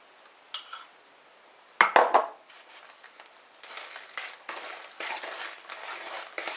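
Christmas cake batter being mixed by hand with flour and egg, a utensil knocking and scraping against the bowl in a loud cluster of clinks near the start, then softer continuous stirring and scraping.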